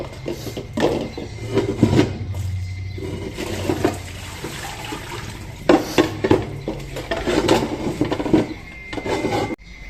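Metal pots, pans and utensils clatter and scrape in a home kitchen in Mexico during a search for a strainer, with bursts of clanking separated by brief pauses, close and fairly loud, with running water nearby.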